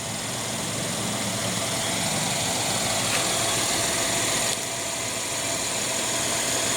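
The 3.5 liter V6 of a 2015 Mercedes-Benz GLK 350 idling, a smooth, steady mid-pitched hum with light vibration, heard close and alone without talking.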